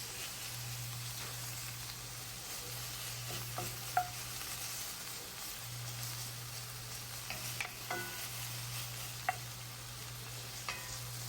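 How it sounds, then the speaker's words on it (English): Steak pieces frying in a pot for kimchi stew, a faint low sizzle broken by scattered light spoon pokes and taps, quiet and close with no talk. "you're going to add in the steak and kind of separate it with your fingers, but you're really going to have to kind of separate it with a spoon"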